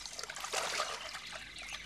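Water splashing gently as someone swims in a lake, a soft, faint, close trickle and dribble with a brief fuller splash in the middle, and no voices.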